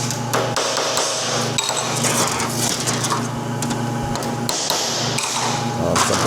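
Dense, continuous metallic tapping and clattering from a hammer working a handmade aluminum sand car body panel in a shop, with rapid irregular strikes over a steady background hum.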